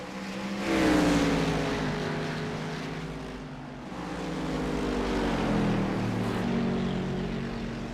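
A roaring race car engine in the iRacing sim at Mid-Ohio Sportscar Course, with sustained revving that rises and falls, loud and continuous throughout.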